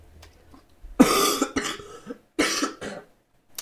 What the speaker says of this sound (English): Very sorry for the coughing